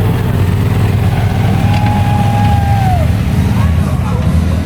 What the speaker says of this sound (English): this guy in front of us won't turn off his engine.